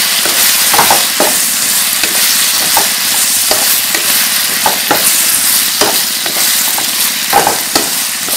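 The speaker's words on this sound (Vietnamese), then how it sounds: "Mình tiếp tục ở đây mình xào thêm 1 phút nữa." Shaking beef (bò lúc lắc) stir-fries in a pan with a steady loud sizzle, punctuated by regular scraping stirs roughly every second.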